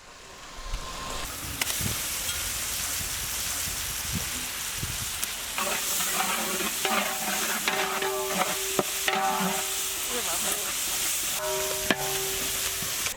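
Ginger garlic paste with green and red chilli pastes stirring and frying in hot oil for a large fish biryani, a steady sizzle with scraping stir strokes throughout, close and fairly loud.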